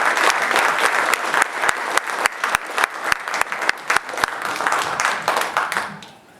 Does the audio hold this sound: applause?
yes